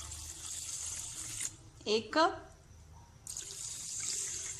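Water pours into a pan holding two cups of sugar for a rasmalai syrup, a steady faucet-like stream running close up, broken briefly in the middle by a short spoken phrase before the flow resumes.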